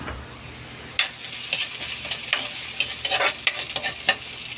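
Cucumber stir-fried in a pan, a steady close sizzle with irregular scraping and tapping of the utensil against the pan throughout, no talking.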